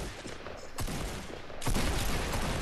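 Gunfire in the Fortnite video game: dense bursts of shots fill the span, with a heavier volley breaking in near the end, loud and continuous with no talking.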